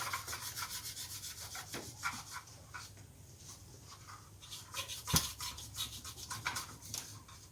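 Close, uneven rubbing and scratchy polishing strokes on a gun during cleaning, with a sharp small click partway through and no talking.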